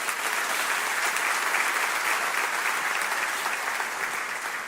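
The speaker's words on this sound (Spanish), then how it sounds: "Denle otro fuerte aplauso al Señor" A church congregation breaks into applause, a dense, even wash of many clapping hands sustained at steady loudness throughout, with no clear voices on top.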